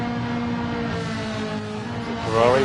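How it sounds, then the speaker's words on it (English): Ferrari race car engine at Monza, a steady high-revving mechanical howl that swells toward the end as it nears, loud and continuous with no talk. "It's a Ferrari which I could listen to all day,"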